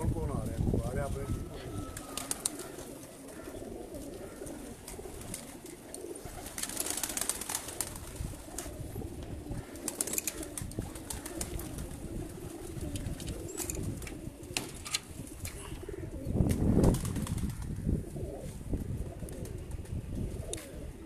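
Blue pigeons coo softly in a loft, with occasional bursts of wing flapping amid steady background noise, while someone talks over them throughout.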